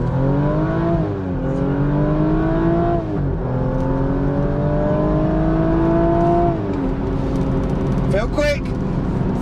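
A BMW M135i accelerates hard from a standstill in a drag run, its engine note climbing through several gears with clear dips at each shift, loud and close, ending with a brief burst of sharper noise.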